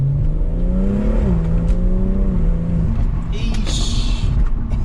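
A Stage 1 tuned BMW M140i engine drones and revs loudly from inside the cabin, its pitch climbing and settling in a steady rumble, with someone talking over it.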